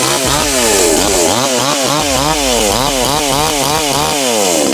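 A power saw runs loud and close, its engine revving and dipping repeatedly in a continuous rough drone with no talking over it.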